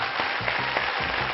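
A studio audience on a Telugu game show claps steadily in a dense, continuous burst of applause that stays loud and close throughout, with no voices over it.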